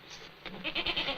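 Goat bleating in a farmyard setting from a 1937 black-and-white film, a short rising cry that builds in the second half of the moment, close and moderately loud with no talk over it.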